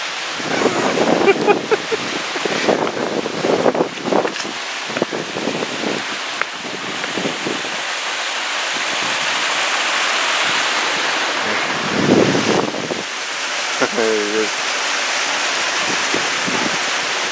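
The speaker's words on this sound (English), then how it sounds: "Not much of a waterfall left, but there's a small one here." A small waterfall on Bear Creek gives a steady broadband rush of falling water, with gusty wind buffeting the microphone and brief bursts of nearby rustling over it.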